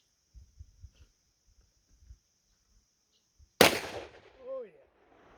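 A single loud gunshot from a Smith & Wesson Model 27 revolver fired with a heavy powder load, a sharp blast after quiet handling clicks, followed by a brief voice.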